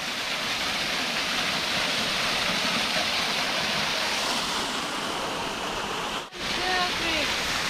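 Cascade Falls in Maine roars as a loud, continuous rush of falling water close by, broad and steady for the whole stretch, with a brief dip near the end and faint voices under it.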